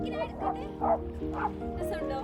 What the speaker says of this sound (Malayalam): അത് ഗോൾഡൻ റിട്രീവറാ